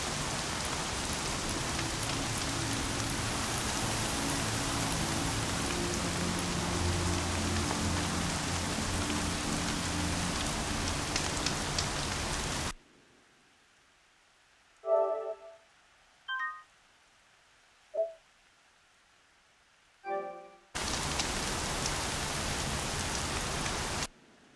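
Heavy rain in the video game Horizon Zero Dawn on a PS4 Pro pours as a loud, dense, steady hiss for about twelve seconds. A near-silent stretch with a few brief soft tones follows before the downpour abruptly returns.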